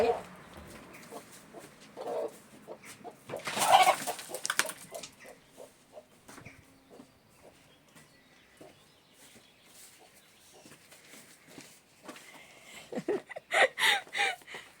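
Chickens clucking in front of a house, intermittent calls rising to a louder burst near the end, with someone talking over much of it.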